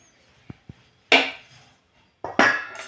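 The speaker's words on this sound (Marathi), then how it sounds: "लगेचच चाकूच्या सहाय्याने किंवा साचा असेल त्याने सुद्धा तुम्ही कट करू शकता" A knife cuts through rolled-out dough on a board: two faint light taps, then two louder, sharper chopping strikes with a short scraping tail, close by and without talk.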